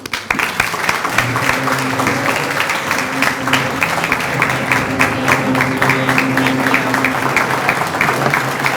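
Sustained audience applause fills the room at an evening event welcoming Iowa Governor Kim Reynolds, dense steady clapping at even loudness throughout with a few faint cheers mixed in.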